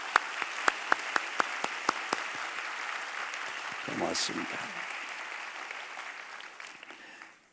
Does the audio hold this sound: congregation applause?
yes